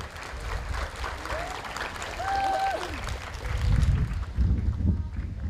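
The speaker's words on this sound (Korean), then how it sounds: "큰 박수로 축하해 주시기 바랍니다." Applause at an awards ceremony for a national archery tournament, a steady spread of clapping from a crowd, likely outdoors with wind noise, rising toward the end.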